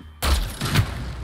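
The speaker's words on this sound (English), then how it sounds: "Plasma blast launcher. Let's see what this bad boy does." A plasma blast launcher fires in the video game Hyper Scape, giving one sudden loud blast that trails into a rumbling, crackling burst, with a second swell of noise soon after.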